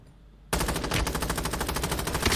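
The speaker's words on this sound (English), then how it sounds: "he's shooting through the wall" Rapid automatic gunfire in the video game Warzone Mobile bursts in abruptly and continues as a loud, fast, evenly spaced stream of shots close by.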